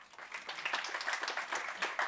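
An audience at a business conference applauds after a talk, steady clapping from a group at moderate distance, fairly faint, with no voices standing out.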